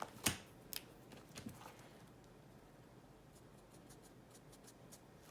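Soft scratching of a liner pen working across paper, faint and close, with a few light taps early on and steady quiet strokes after.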